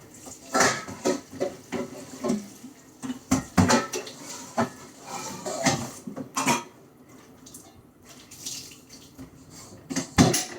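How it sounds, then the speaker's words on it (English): A kettle being washed in a kitchen sink under running water, with hollow metallic clanks and scrapes at an irregular pace over the hiss of the tap, close and fairly loud, with no talking. "Then we're gonna wash off our kettle."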